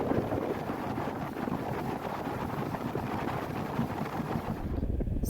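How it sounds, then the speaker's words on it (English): Continuous low rumble of a boat motoring along the Kvichak River, buffeted by heavy wind noise on the microphone, with no voices. "So we got to go on a boat ride on the Kvichak River."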